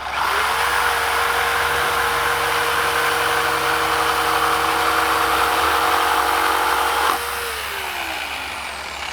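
A jigsaw plugged into the power outlet of a Rivian R1T pickup whirs steadily and loudly for about seven seconds, then drops in pitch as it spins down.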